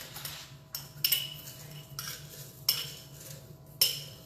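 Chopped onion spooned into a dish for enchiladas, giving a few sharp metallic clinks of a spoon against the dish among soft rustling, close and moderately quiet.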